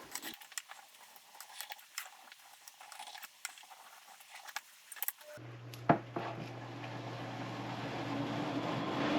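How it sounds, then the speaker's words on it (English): Quiet scattered kitchen clicks and taps give way midway to a home air conditioner switching on, bringing a steady low hum and broadband whoosh that keeps rising gently in the background. "Sorry for the noise, my AC just kicked on in the background."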